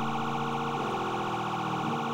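A loud wailing ambulance siren in the video game Garry's Mod sweeps up and down continuously, steady and close, like an emergency vehicle passing right by.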